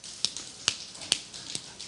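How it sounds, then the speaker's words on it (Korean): Sharp claps made with the backs of the hands during a group exercise at a church service, a steady series of crisp, evenly spaced slaps about twice a second, fairly close with no talking. "자, 이번에는 이제 손등 박수."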